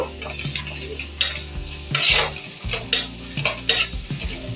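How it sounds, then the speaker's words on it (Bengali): Spices stir-fried in a pan: a spatula scrapes and clinks against metal in quick irregular strokes over a soft sizzle, with no talking. "এবার একটু ভেজে নেব"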